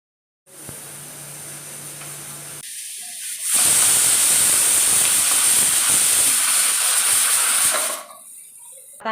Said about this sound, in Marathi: आता आपण कुकरला एक 8 ते 10 शिट्ट्या दिलेल्या आहेत